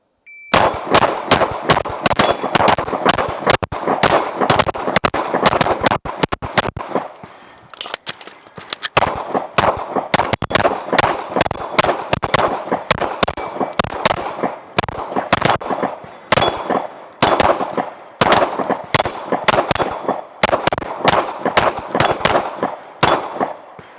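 Handguns fire rapid strings of shots at steel targets on a range, sharp cracks each followed by a ringing metallic clang, in fast bursts with a short pause midway.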